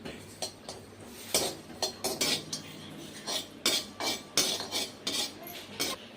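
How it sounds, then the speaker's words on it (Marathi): Sesame seeds being stirred in a pan for nachni laddu, a spoon or spatula scraping and clinking against the metal in a steady series of short, close strokes with no talking. "तिळला पण असं हलवून घ्यायचंय."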